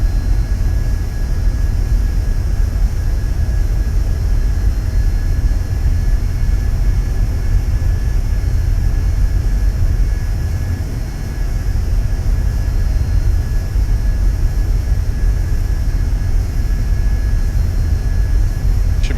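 Steady, loud cockpit drone of a Cessna Citation II 550 jet in flight in X-Plane 11, a constant broadband roar with a faint high whine, unchanging throughout, with no voices.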